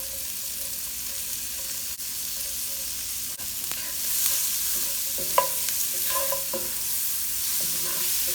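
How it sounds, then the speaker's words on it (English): Sliced onion fries in a tablespoon of butter in a skillet, a steady close sizzle throughout with occasional stirring scrapes and taps, and no talk. "to the same skillet, I'm going to add 1 tablespoon of butter. And then I'm going to add 1 onion that I sliced up."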